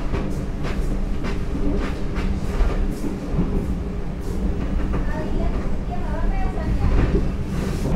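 Inside the dining car of the Argo Cirebon economy train just after it leaves Cirebon station, a steady rumbling roll carries faint rhythmic wheel clacks throughout.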